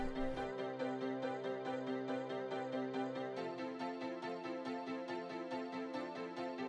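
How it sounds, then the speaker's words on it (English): Short, clipped piano chords from a Keyzone Classic virtual piano repeat in a quick steady rhythm, bright and moderately quiet, with no voices. "I've got this Keyzone Classic playing the piano chords but"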